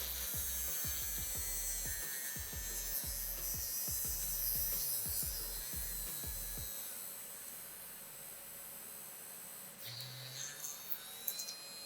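A budget mini drill machine bores a hole in a wooden board, giving a steady high motor whine with a rapid rhythmic grinding pulse that fades out partway, close and fairly quiet.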